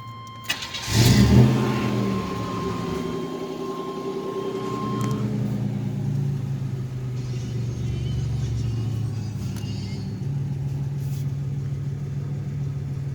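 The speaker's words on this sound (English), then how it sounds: "let you hear that exhaust" A 1987 Chevrolet Eurosport engine cranks and fires up with a loud rev, then settles into a steady, rumbling exhaust idle around 800 to 900 RPM that continues to the end.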